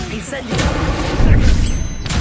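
The Incendio fire spell from Hogwarts Legacy bursts out with a loud, rumbling whoosh that swells through two seconds of close, dense combat noise.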